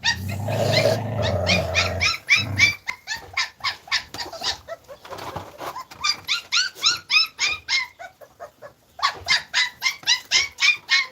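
A dog growls low, then lets out a long run of rapid, rhythmic barks, loud and close, with a brief pause before another burst of barking.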